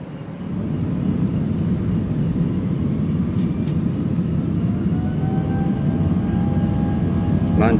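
Airbus A319 jet taking off, a loud, steady roar of engines building on the runway with rumbling low noise throughout and a faint rising whine toward the end.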